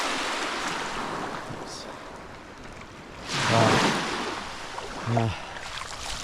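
Waves wash gently onto a clear-water beach, with a soft continuous surf hiss and two brief, louder swells breaking nearby.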